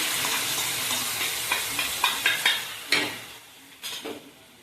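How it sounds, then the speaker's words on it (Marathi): Ground masala paste frying in hot oil in a wok for a home-style moong masala dish, with a steady close sizzle and several sharp scraping stirs of a spoon against the pan; no one speaks. "वाटलेला मसाला आपण टाकून घेतला आहे कढईमध्ये"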